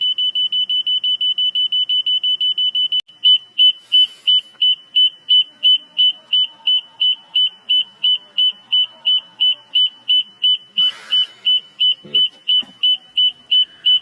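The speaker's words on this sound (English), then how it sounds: "Now it's pointing down, it beeps a lot more faster." A laser level detector beeping: a fast, steady run of high electronic beeps that switches to a slightly slower, louder pulse, continuing throughout with faint background noise and brief rustles.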